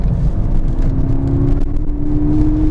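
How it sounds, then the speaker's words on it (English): A Mk6 VW Golf GTI Edition 35 on a track pulls hard through second into third gear with a bit of wheel spin, a loud close engine drone with rising pitch and a brief shift dip partway through. "Okay, second gear. Bit of wheel spin. Into third."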